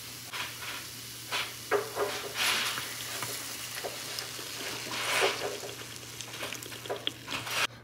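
Diced papaya frying in ghee in a pan, with a steady soft sizzle and intermittent stirring scrapes and clatters, close and fairly quiet.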